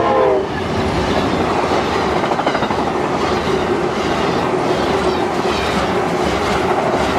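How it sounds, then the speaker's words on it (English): Amtrak 91 passenger train in South Florida, led by Heritage Unit 184, rumbling past close by with continuous clickety-clack of wheels over rail joints and a horn tone near the start, loud and steady throughout. "Last train of this adventure was Amtrak 91, headed into South Florida"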